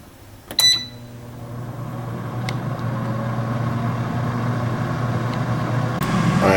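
A Cooks Essentials 5.3-quart air fryer preheating at 400 degrees: a few beeps and a click, then a steady low fan-and-heater hum that grows slightly louder over several seconds.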